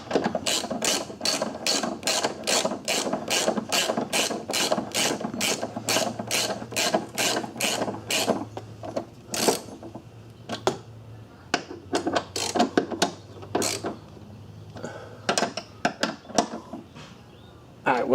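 Ratchet wrench with a 16mm socket snugging bolts during rear shock and spring installation on a Volkswagen Jetta, giving rapid, steady clicking bursts up close, then slower, sparser ratcheting strokes with pauses.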